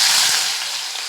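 Chopped onion hitting hot oil in a pan for a Marathi dried-fish curry, giving a loud, steady, close hiss of frying with no other sounds.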